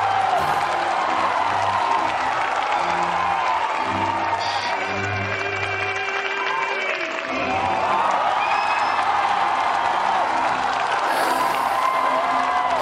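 A theatre crowd gives a comedy magician a standing ovation, with loud sustained clapping, cheers and whoops that stay dense throughout, swelling slightly toward the end.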